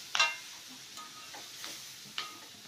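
Vegetables and red chillies are being stir-fried in a pan, giving a soft sizzle under a few sharp clicks and scrapes of stirring, with one louder clatter at the start and quieter taps after it.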